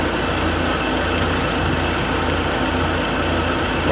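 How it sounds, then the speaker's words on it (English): A 2025 Kia Sportage diesel X-line idles after starting, a steady broadband engine drone with a low rumble holding even and moderately loud throughout, no talking. "So there you go, car is started."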